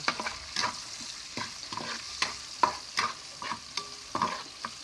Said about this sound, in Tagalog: Mix na natin yung ating sibuyas. Yan. Para mamix na siya.